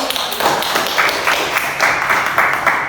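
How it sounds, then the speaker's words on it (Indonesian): A class of students claps hands in a classroom during a micro teaching lesson, a close, fairly loud run of sharp claps with an uneven, slightly bunched rhythm over a few seconds. "Oke, tepuk tangan buat Malik."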